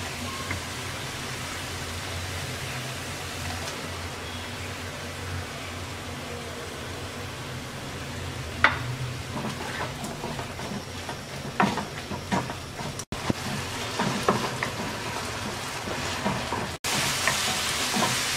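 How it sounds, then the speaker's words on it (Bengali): Dried shrimp fry with spices in a pan, giving a soft, steady sizzle at low volume, broken by a few sharper clicks and scrapes of stirring toward the end. "এবার চিংড়ির শুটকিটা দিয়ে 2-3 মিনিট কষিয়ে নেব।"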